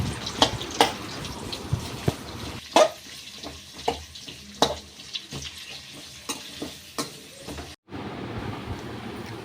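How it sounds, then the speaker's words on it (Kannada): Onions frying in a pan while cooking a biryani, heard as a low sizzle under repeated clinks and scrapes of stirring, with some watery splashing and a brief dropout near the end. "ನೀರುಳ್ಳಿ ಅಡ್ಡೆ ಫ್ರೈ ಆವಾಗ"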